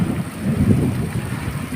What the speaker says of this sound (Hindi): तो ज़ोर शोर की बारिश शुरू हो गई।